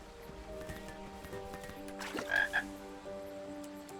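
Frogs croak in a King's Quest Chapter 5 game scene, layered over soft ambient music, with a louder burst of croaks midway and no talking.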